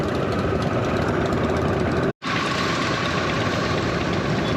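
A motorcycle engine idles steadily and loudly close by. Its even, rough drone is broken once by a very short dropout partway through.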